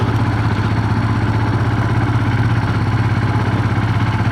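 A motorcycle engine runs steadily in second gear while climbing a hill road, its low, even throbbing close and loud throughout with a faint mechanical clatter and no talking.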